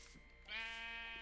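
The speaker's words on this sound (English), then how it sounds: "but I was spawning sheep." A single clear sheep bleat from a video game, a drawn-out nasal baa that swells in and holds over a quiet background.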